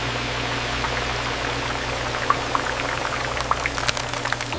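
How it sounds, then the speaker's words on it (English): Jackfruit slices frying in hot oil in a factory vacuum frying system: continuous hissing, crackling bubble noise over a low mechanical hum, with occasional sharper pops rising toward the end. "The moment they touch the oil, intense bubbling begins as moisture rapidly escapes from the fruit."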